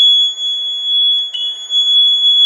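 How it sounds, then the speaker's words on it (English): A 555 timer circuit with an IR amplifier drives a small speaker, giving a loud, piercing, steady high-pitched electronic tone, like a smoke alarm, that holds for the whole moment with one brief wobble midway. "This is a 555 timer and IR amplifier to run a speaker into that microphone there."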